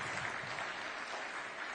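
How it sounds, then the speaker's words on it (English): An audience at the Mazingira Awards winners' ceremony applauds the First Lady with steady, fairly faint clapping that carries on without a break. "Another big round of applause for our First Lady."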